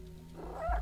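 A cat in the video game Stray gives one short, faint meow that rises at the end of a quiet moment.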